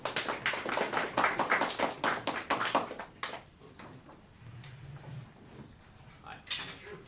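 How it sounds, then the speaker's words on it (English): Clapping from a small audience at a Libertarian Party of Ohio political gathering, a burst of fairly close handclaps lasting about three seconds before fading into quiet room noise. "Give yourselves a round of applause."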